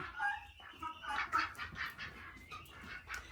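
Chickens and ducks on a small school farm, with young chickens hatched from eggs kept apart from the mature flock; soft clucks and bird calls come in a steady scatter at moderate distance over faint background noise.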